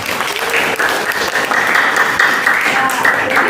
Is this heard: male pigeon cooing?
no